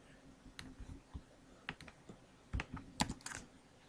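A web address is typed on a computer keyboard, heard as a quiet, close, irregular series of light key clicks with a few sharper taps.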